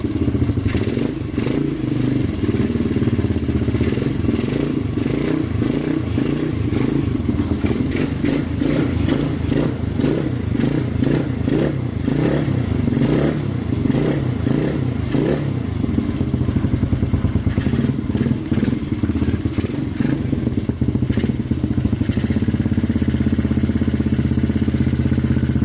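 A project CXR motorcycle engine runs loud and close for the whole stretch, idling with a rough, chugging pulse, blipping through bursts of revving and clattery thumps in the middle before settling back.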